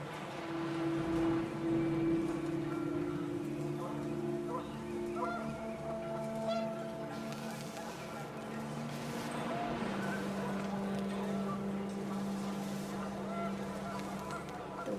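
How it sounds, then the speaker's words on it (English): Geese honk in a gusty wind scene from the video game What Remains of Edith Finch; a few honks and calls rise over a low background bed, with a voice talking at times. "The wind picked up, and panicked geese appeared and quickly went."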